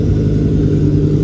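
Dodge Viper engine at an outdoor car show, a steady low rumble running loud and continuous with no break and no voices over it.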